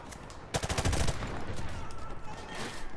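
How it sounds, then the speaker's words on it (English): Gunfire from enemy shooting in the video game COD4 Modern Warfare Remastered, a sudden burst of close, loud shots over steady battle noise, followed by continued rapid fire in the background. "I think there's someone still up top shooting."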